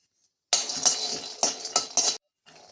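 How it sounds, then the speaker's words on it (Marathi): Peanuts stirred and dry-roasted in a kadhai with a little oil, a spoon scraping and clinking against the metal in several close, uneven bursts over about a second and a half, then a soft tail. "यात आपल्याला शेंगदाणे छान खमंग असे भाजून घ्यायचे आहेत"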